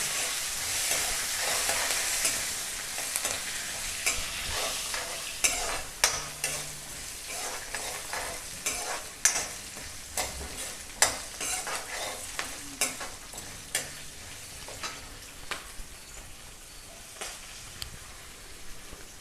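Green chillies, dried chillies and curry leaves frying in hot oil, a bright continuous sizzle with rhythmic stirring scrapes and clinks repeating through the whole stretch, fairly close, with no talk.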